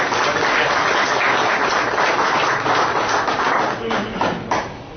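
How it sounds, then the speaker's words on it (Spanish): Conference audience applauding a speaker at a labour-union event, a thick burst of clapping that thins out near the end with a few louder individual claps. "Vamos a brindarle un fuerte aplauso"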